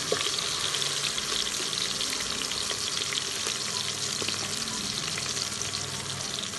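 Chopped green chillies fry in hot oil in a pan, giving a steady, dense hiss with faint scattered crackles, close and unbroken throughout.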